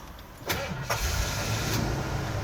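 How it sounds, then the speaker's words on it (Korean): A 1986 camper van with an automatic transmission cranks and catches, the engine starting quickly and settling into a steady near idle with a low rumble. "시동을 걸어볼게요"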